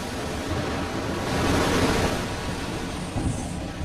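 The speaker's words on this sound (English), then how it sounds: "In order to cleanse the surface, water is sprayed at high pressure" High-pressure water spray at 160 bar blasting mill scale off hot steel before rolling in a hot rolling mill, a steady loud broadband hiss that swells slightly midway and continues unbroken.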